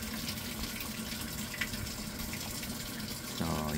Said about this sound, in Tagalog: Yung gumagalaw doon sa loob, yun yung tubig.